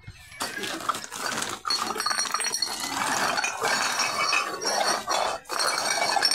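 Glass bottles and cans clink and rattle together as street junk is gathered into a sack, a busy run of bright, close jangling and knocking with short gaps, fairly loud and continuous.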